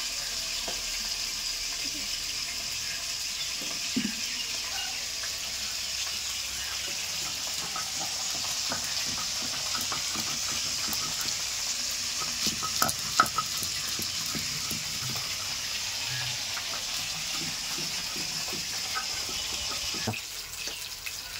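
Fish fry in a pan with a steady, loud sizzling hiss that runs the whole time, broken by a few sharp clinks and scrapes of stirring or turning.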